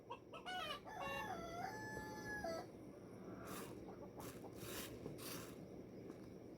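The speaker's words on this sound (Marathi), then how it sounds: "अरे गप्प बसणार रे कोंबड्यांनो" Chickens nearby: a rooster crows loudly, followed by scattered clucking and squawks in a quiet yard.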